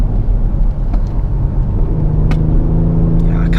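Kia Stinger GT with a 370 hp engine driving in Sport Plus mode, a steady low engine drone and road rumble heard from inside the cabin, with a pitch shift partway through.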